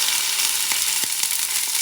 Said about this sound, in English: Preheat this for a few seconds, let it preheat, okay? Kind of sear the wings.